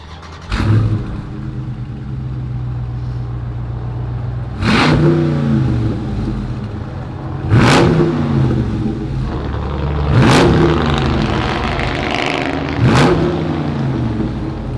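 The 392 cubic inch V8 of a 2020 Dodge Charger Scat Pack starts up close by, then revs hard four times, each roar falling back to a deep, rumbling idle.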